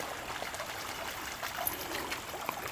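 Creek water trickles and babbles steadily over rocks on a woodland backpacking hike in Mohican State Park, a close, continuous burbling with no talk.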